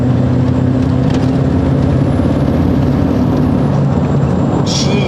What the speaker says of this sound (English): tell me y'all can't hear the turbo a little bit better here, or is it just me? Because I'm going to give her a ton of gas